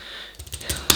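Quick keystrokes on the cheap keyboard bundled free with a budget tablet, a short burst of light plasticky clicks that grows denser and louder toward the end, with no voices.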